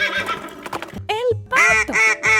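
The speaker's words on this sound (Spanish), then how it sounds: "el caballo" In a children's animal-sounds song, a horse neighs in one short, loud, falling whinny, then bright repeated calls follow right after.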